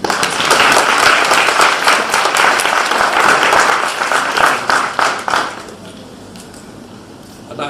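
A loud round of applause from a graduation ceremony audience in Manchester, dense, steady clapping that fills most of the stretch, then tapers off abruptly into quieter room sound.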